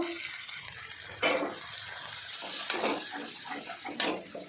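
Ground spice paste sautéed with fried onions in the oil left from frying fish, giving a steady sizzle punctuated by a few sharp spatula scrapes against the pan, close and moderately loud.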